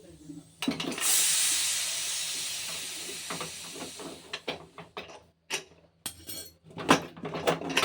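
A pressure cooker hisses steam in a strong burst that slowly fades, followed by scattered clatter of pots and utensils nearby.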